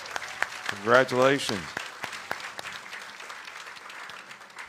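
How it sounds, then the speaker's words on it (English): Audience applause for a newlywed couple, married the day before, at a live football bowl preview show in Los Angeles: dense clapping builds early, peaks, then thins to a steady lighter patter, with a voice speaking over the start. "So let's give them a big round of applause."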